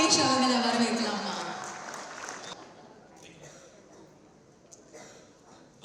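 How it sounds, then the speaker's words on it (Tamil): Audience applause as a guest comes on stage at a business event, a burst of clapping that is loud at first and then fades away over a few seconds before quieter room sounds and a voice. "Can we give a big round of applause for"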